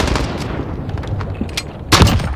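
Gunfire in a first-person shooter game's kill house search-and-destroy match, with scattered shots and a loud, close burst near the end over a busy game background.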